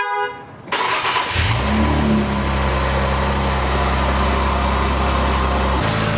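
An Infiniti Q50/Q60 3.0t twin-turbo engine, fitted with blow-off valves on both sides, cranks and fires up, then settles into a loud, steady idle close by with a faint whine above it.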